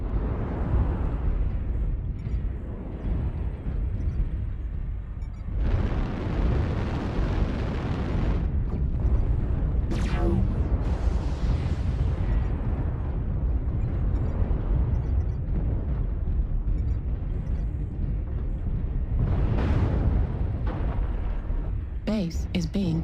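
Explosions from destroyed targets in the mech combat game MechWarrior Online, with a BlackJack BJ-2 in play, booming and rumbling loudly through a dense, continuous battle mix of repeated bursts and blasts.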